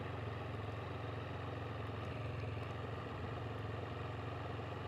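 A Can-Am Spyder driving along a country road, its engine a steady, muffled mid-pitched drone with a light clatter and no change in pace, heard from the rider's seat and fairly quiet throughout.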